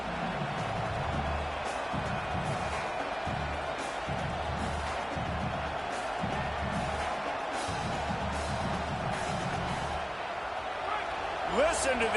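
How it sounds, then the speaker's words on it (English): A football stadium crowd roars steadily throughout, a dense, loud wash of cheering and shouting, with a commentator talking over it. "Listen to this crowd just shaking the girders of this place, trying to help their defense."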